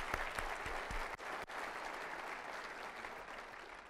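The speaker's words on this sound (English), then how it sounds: "let's give another round of applause to thank the wildflowers for their drumming and song" Warm round of applause from a conference audience at a heritage keynote, thanking Algonquin First Nation drummers and singers; a sustained, even roar of many hands, fairly quiet and heard alone.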